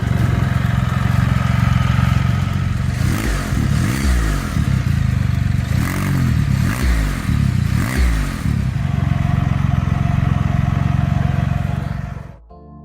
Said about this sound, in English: the ECU reflash has improved the sound of the trike